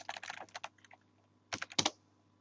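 Keys clatter on a computer keyboard in two quick bursts of close, crisp clicks, a flurry of rapid taps, a short pause, then a few more strokes.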